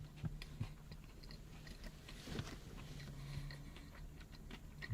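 Quiet, close-up crunchy chewing of a spicy KFC fried chicken sandwich, with occasional sharp bites and soft crackles, no talking.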